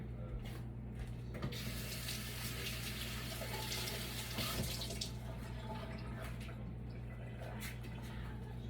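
Tap water runs steadily into a kitchen sink while a hand is rinsed clean of a hamburger, bean and seasoning mixture during chili cheese burrito prep, a constant close splashing stream with slight shifts as the hand moves.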